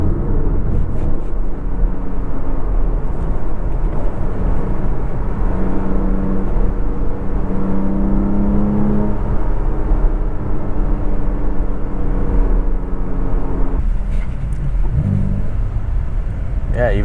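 A Porsche Cayman engine revs and blips through successive downshifts, rising and falling in pitch over a steady in-cabin drone, with a voice speaking over it.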